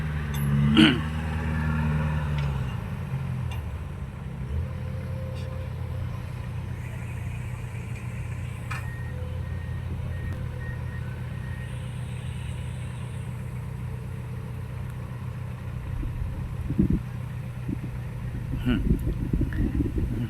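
A heavy diesel engine of a Komatsu PC210-10MO excavator idles with a steady low rumble throughout, while a voice talks over it.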